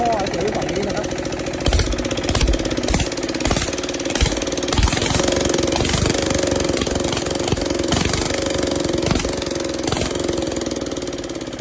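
Kubota 9.5 hp straight-shaft diesel engine, an original Japanese unit, running at a steady loud idle with a rapid chugging knock throughout, while someone talks nearby over it.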